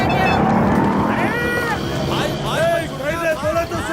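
Car speeding in a chase in a Hyderabadi comedy film: a loud, continuous engine roar with a revving whine, overlaid by frantic shouting voices.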